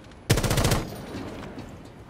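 Rapid burst of gunfire in the Rainbow Six Siege video game, a loud close volley lasting about half a second, then fading into a low lingering tail with faint room noise.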